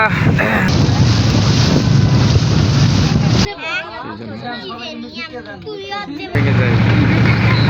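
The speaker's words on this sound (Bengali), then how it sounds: "গাইস নৌকা অলরেডি ছেড়ে দিয়েছে আমরা" A boat moving on a river in Tangail, its steady drone largely buried under strong wind buffeting the microphone, with a person speaking in a quieter middle stretch.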